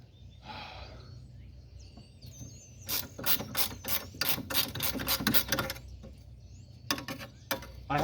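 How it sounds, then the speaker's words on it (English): A ratchet wrench turns in rapid clicking bursts close by, with quick pauses between strokes, while working on a Geotracker body. "I've used ratchet wrenches. I just haven't used this specific one yet."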